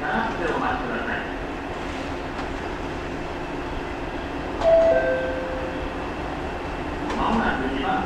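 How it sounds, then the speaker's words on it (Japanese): A Shinano Railway 115 series train pulls into a station platform, a steady rumble of wheels and rail noise with brief squeals and a faint station announcement over it. "まもなく2番線に列車が入ります。 危険ですから白線の内側まで下がってお待ちください。"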